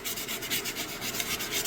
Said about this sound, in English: this is just basic 3M sanding paper, nothing special